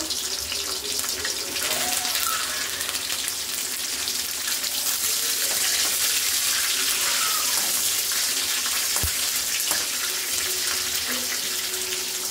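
Dried red chillies and curry leaves frying in hot oil for pulihora, a continuous loud hiss and crackle like rushing water, close and steady throughout, with a single sharp knock near the end.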